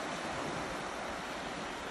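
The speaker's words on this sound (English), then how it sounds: "The sea's on its way in, as I said." Sea waves wash in on the Jurassic Coast at Lyme Bay, a continuous broad rush of surf with wind buffeting the microphone, steady and fairly close throughout.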